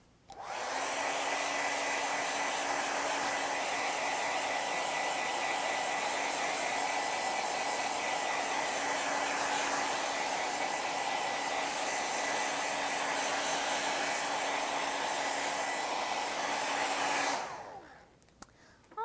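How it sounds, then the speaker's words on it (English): A hair dryer blows steadily and loudly for about seventeen seconds, drying a painting, a continuous airy roar with a low motor hum, then shuts off abruptly. "I'm going to actually grab my blow dryer and blow dry my painting for a minute"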